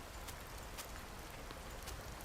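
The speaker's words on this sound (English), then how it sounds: "Oh my god, it's raining." Steady rain falls in the survival game Card Survival: Fantasy Forest, a soft, even hiss with scattered faint drop ticks running throughout.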